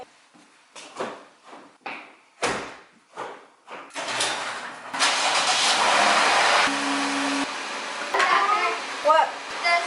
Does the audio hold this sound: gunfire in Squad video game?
no